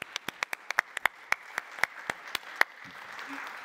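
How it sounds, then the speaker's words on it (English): A few people in a panel discussion audience clap, giving sparse, distinct sharp claps at an uneven rhythm that thin out and stop after about two and a half seconds, leaving a quiet room and a faint voice. "And now for the applause."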